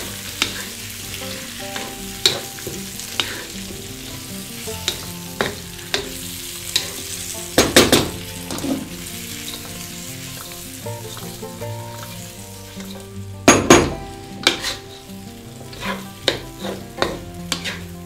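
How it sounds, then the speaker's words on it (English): Vegetables stir-fried in black bean sauce in a wok, a steady loud sizzle with scraping and clanking spatula strokes throughout, no talking. "Now let's add our vegetables again."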